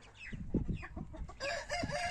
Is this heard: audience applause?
no